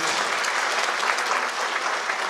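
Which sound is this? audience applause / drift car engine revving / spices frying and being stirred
audience applause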